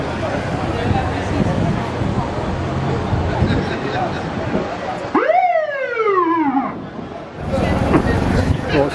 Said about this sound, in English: Getting a bit of trigger happy with that siren